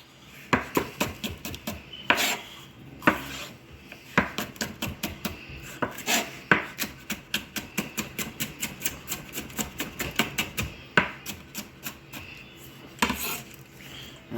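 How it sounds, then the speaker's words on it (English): A knife slices bell peppers into thin matchstick strips on a cutting board, with quick, steady, close chopping taps running in rapid bursts and brief pauses between runs, with no voices. "you're going to matchstick these just like you did the carrots. Just thin strips"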